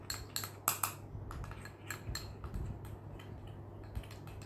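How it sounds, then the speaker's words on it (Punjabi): Spoon stirring a yogurt face pack paste in a bowl, giving a few soft clinks and scrapes spread irregularly across a quiet background, no voices. "ਇਹਨੂੰ ਚੰਗੀ ਤਰ੍ਹਾਂ ਮਿਕਸ ਕਰ ਲੈਣਾ ਚੰਗੀ ਤਰ੍ਹਾਂ"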